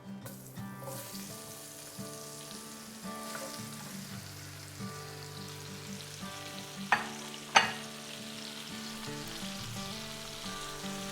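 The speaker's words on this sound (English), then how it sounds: "now we're gonna add our 5 sliced apples" Five sliced apples fry in a pan with a steady, moderate sizzle and a couple of sharp clinks partway through, over a soft background of sustained musical tones and no voices.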